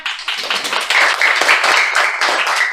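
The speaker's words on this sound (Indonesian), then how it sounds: "kita tepuk tangan dulu semuanya" A classroom of students claps their hands together in a loud, close burst of rapid, uneven claps that runs steadily for a few seconds with no talking over it.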